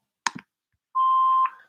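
A single answering-machine beep, a steady clean electronic tone lasting about half a second, follows a brief click and rustle, alone and close.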